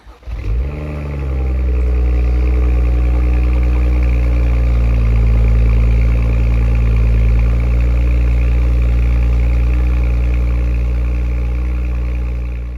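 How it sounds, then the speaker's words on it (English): A BMW E87 engine cranks and catches, then settles into a steady, smooth idle that runs on evenly for several seconds. "I get to share this very special moment of starting my car for the very first time"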